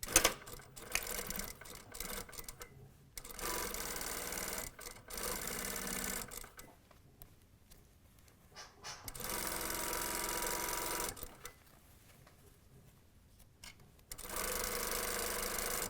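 A domestic sewing machine stitches a zipper tape into the front facing of a vest, running in long steady bursts of rapid buzzing with brief pauses between runs.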